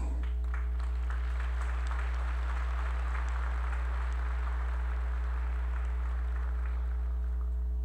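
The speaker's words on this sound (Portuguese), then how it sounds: "Por favor, uma salva de palmas." Audience applauding at an opening ceremony in a large Rio de Janeiro concert venue, a sustained, even wash of clapping heard from a distance over a steady low hum, with no voices.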